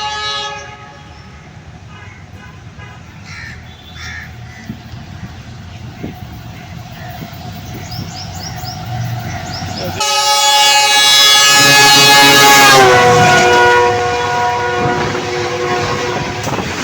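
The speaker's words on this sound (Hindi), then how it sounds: "5 अप ग्रीन लाइन एक्सप्रेस जो कि GE40 9051 के साथ पाड़ा से थ्रू पास कर रही है।" A Green Line Express passenger train hauled by a GE40 locomotive runs through a station at speed: a rumbling approach builds, then a loud, sustained multi-tone horn blares as the train passes close by.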